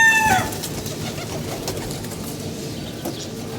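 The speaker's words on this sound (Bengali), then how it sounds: "কবুতরগুলো" A flock of medium-sized pigeons in a loft gives off a steady, dense murmur of soft cooing and rustling that continues without a break, with a brief brighter chirp at the start.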